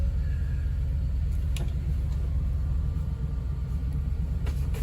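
Anthem mobile clinic vehicle with its engine idling after power-on: a steady, low, continuous rumble that holds evenly throughout, with a few faint clicks on top and no talking.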